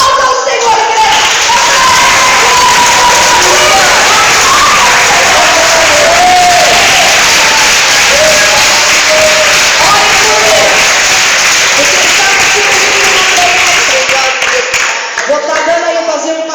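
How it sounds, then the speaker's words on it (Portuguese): A church congregation applauds loudly and continuously, a dense wash of clapping and crowd noise with voices mixed in that fades slightly near the end. "aplauda o Senhor, igreja."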